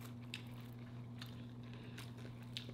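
Chewing a bite of homemade shrimp rangoon filled with cream cheese, heard as a few faint, crisp crunching bites close to the mic. A steady low electrical hum runs underneath, with no talking.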